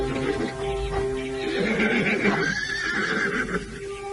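A horse whinnies and neighs near a house in an old village yard, a drawn-out trembling call over soft ambient noise, with faint hoof movement beneath.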